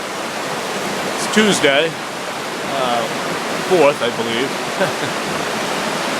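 Mousam River rushing at Indian's Last Leap in Springvale, Maine after heavy rain, a steady broadband roar of raging water running continuously beneath a man's intermittent speech.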